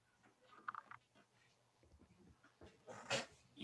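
A pet dog gives short, soft whines and whimpers, fairly close and quiet, in a few scattered bursts with a sharper yip near the end.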